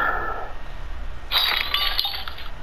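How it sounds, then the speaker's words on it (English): Glass shattering in the Talking Ben game on a phone, a bright burst of breaking and clinking shards after a quieter lead-in, fairly close and alone without talk. "You just broke the glass."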